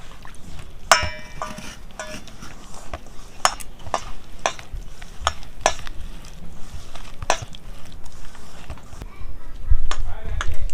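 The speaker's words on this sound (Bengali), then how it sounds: "এবার জল দিয়ে দিয়ে ব্যাটারটা তৈরি করে নেব" Pitha batter being mixed with water in a bowl, a Bengali kheer dubi pitha in the making, with repeated scraping and clinking strokes of a spoon against the bowl.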